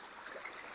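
Creek water flows in a gold-prospecting spot, a faint, steady hiss with light trickling, continuous and fairly distant, with no voices.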